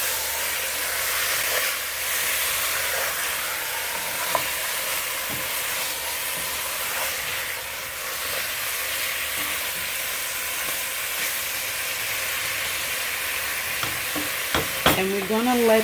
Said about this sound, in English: Thoroughly mix it from the bottom to coat all the meats with the paste that we created.